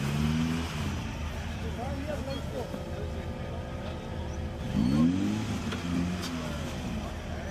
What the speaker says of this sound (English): Ronald in his Toyota with the impressive top truck of Nico coming up from behind.